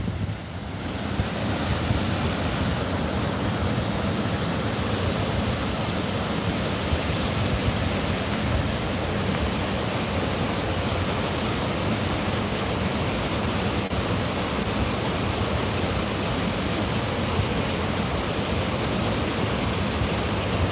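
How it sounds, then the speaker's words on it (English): Water rushing beneath a large sheet of ice makes a steady, broadband roar like surf, with wind buffeting the microphone, continuous and fairly loud for the whole stretch with no talking. "The water is actually flowing under the ice."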